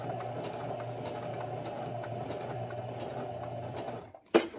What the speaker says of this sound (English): I'm going to sew off the side, having my stitch line be as close to the center line as possible, or the center fold, and I'm not going to backstitch.